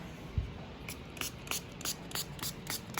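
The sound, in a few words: spray bottle spraying cleaner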